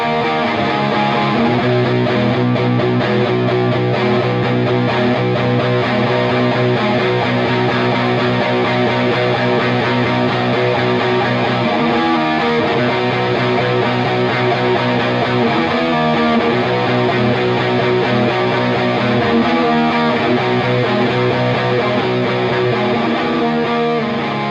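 A heavily distorted electric guitar through a Catalinbread Dirty Little Secret Deluxe pedal plays steadily, thick and saturated with sustained chords, loud and continuous without pause.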